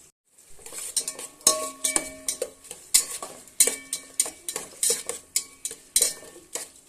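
Metal spoon stirring and scraping in a pan of tempering spices and curry leaves, rhythmic clinks close up over a soft background sizzle; no voices.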